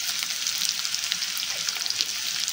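Chopped onion sautés in a pan with a pinch of asafoetida and curry leaves, giving a steady, even sizzle that crackles softly and continuously from start to end.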